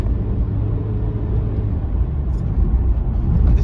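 A Honda Civic Type R FN2 engine drones steadily from inside the cabin during ordinary city driving, a dense, even low rumble that swells slightly toward the end.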